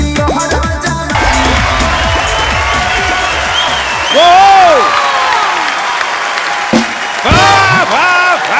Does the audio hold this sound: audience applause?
yes